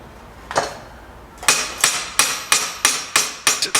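A hammer strikes repeatedly during a Ferrari 308 GTS rebuild, one isolated blow followed by a steady run of sharp, ringing hits, loud and close.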